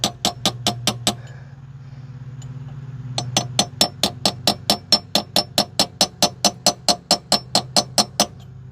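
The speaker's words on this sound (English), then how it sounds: "I'm only tapping on that little flange around it" Punch struck with a hammer against a clutch flange on a 1987 Fiero GT, sharp metallic taps in quick even bursts, a short run, a brief pause, then a longer steady series of close ringing hits.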